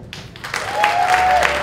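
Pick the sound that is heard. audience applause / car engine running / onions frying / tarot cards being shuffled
audience applause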